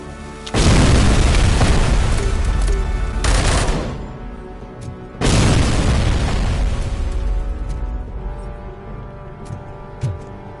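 Two huge grenade blasts boom in the RoboCop video game, each a sudden loud roar that rumbles on for several seconds before fading, the second arriving about five seconds after the first.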